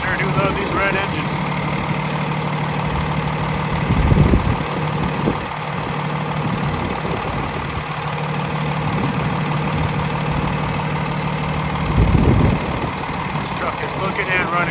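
A 2017 Freightliner M2 106 box truck with an 8.9 liter inline-six Cummins engine idles steadily nearby, a constant low drone with a couple of brief thumps; there is no talk over it.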